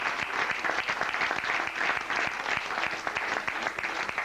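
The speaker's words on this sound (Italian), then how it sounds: "facessimo un grande applauso a loro" Theatre audience clapping at a live show in Rome, a dense, steady round of applause from many hands that holds at an even level throughout.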